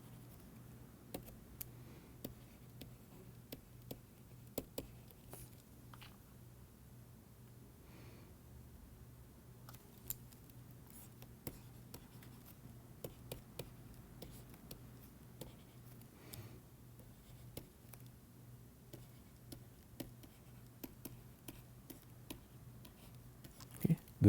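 Chalk or marker taps and scratches faintly on a lecture board in short irregular clicks across a quiet room, with a low steady hum underneath.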